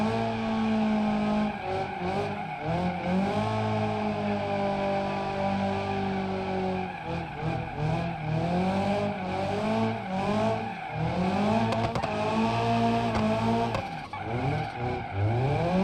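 A car drifting and spinning out in BeamNG.drive, with sustained tire squeal and skidding over a revving engine whose pitch rises and falls through the slide, loud and continuous with no voices.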